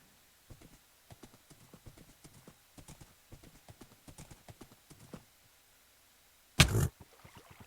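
Horse hooves clip-clop steadily in Minecraft, a run of light, evenly spaced hoofbeats at close range, broken by a short pause and a sudden loud burst near the end before the steps resume.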